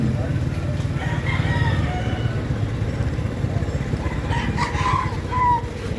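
A rooster crows at a moderate distance, with faint clucking and low background murmur around it.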